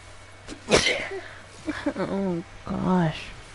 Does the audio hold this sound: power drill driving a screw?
no